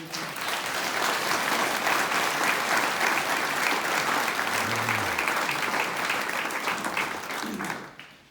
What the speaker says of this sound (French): Nous pouvons l'applaudir aussi.